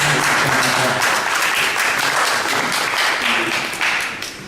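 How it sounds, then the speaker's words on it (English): An audience at a sports and fitness business presentation applauds a speaker coming on stage, dense, loud, continuous clapping that holds steady before tapering slightly at the end, with faint voices underneath. "please give him another round of applause to welcome him"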